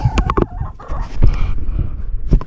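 Several farm chickens clucking close by in short, uneven bursts, loud and alone with no talking.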